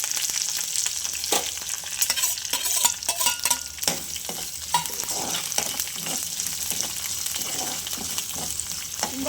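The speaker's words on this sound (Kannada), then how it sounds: "ಸಾಸಿವೆ ಚಿಟ್ಪಟ ಅಂತ ಇದೆ." Mustard seeds and tempering spices sizzling and crackling in hot oil, a dense steady frying hiss with sharp popping bursts throughout, close and loud with no talk.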